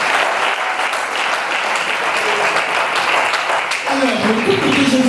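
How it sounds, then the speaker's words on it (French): Guests at a civil wedding in Brazzaville applaud the couple with loud, continuous clapping throughout, joined near the end by a few cheering voices. "Applaudissez pour ce couple, s'il vous plaît."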